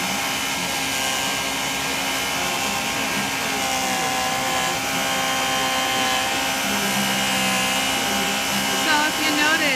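A Jooltool polisher working a meteorite, its motor holding a loud, continuous whine with a gritty rubbing layer as the stone is pressed against the abrasive, steady and close with no talking.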